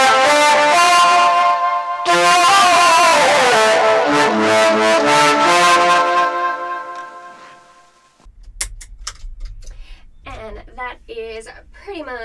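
Sustained flute tones run through a delay pedal and a pitch shift a fifth above, layered with the higher harmonized pitch and a lingering echo, swelling and fading, followed by a low hum and scattered sparse notes.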